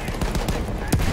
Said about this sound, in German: Aber hier direkt in die Graben schießen